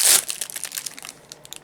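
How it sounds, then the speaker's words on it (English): Plastic parcel packaging from an Etsy order holding a stress ball crinkles loudly in a burst at first, then continues as a series of softer, scattered rustles and crackles close up, with no talking. "Pardon the crinkle for a second."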